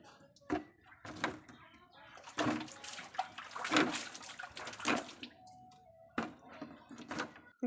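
Water splashing and running while buckets are filled, with knocks and clatter of handling nearby, irregular and moderately faint, and a voice speaking at times.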